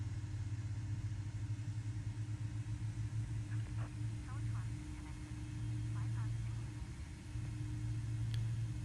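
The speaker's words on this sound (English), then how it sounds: "The beautiful sound of those JT8Ds spooling out." Pratt & Whitney JT8D jet engines on an MD-80 airliner in Microsoft Flight Simulator, a steady low droning hum with a faint higher whine, running continuously from start to finish with no talk over it.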